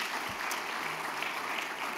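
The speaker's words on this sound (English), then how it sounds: "Let's give them all a round of applause." A symposium audience applauds in a broad, even wash of clapping, fairly faint and distant and continuous for the whole moment.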